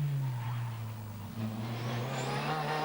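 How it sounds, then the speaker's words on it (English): A Mazda rally car at Rally Poland 1991 passes along a rally stage, its engine holding a steady loud drone that dips briefly and then rises again. "But here's Sundström with the Mazda."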